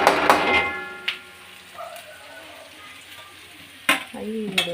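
Onions frying in a pan for chicken noodles, a soft steady sizzle with clattering stirring strokes at the start and a sharp knock near the end, under brief voices.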